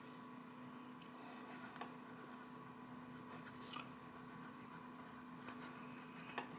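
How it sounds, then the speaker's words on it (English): A Parker Duofold fountain pen in jade green with a stub nib scratches across paper, a faint close scratching with light stroke clicks in a quiet room. "So there we are, there's a writing sample for you."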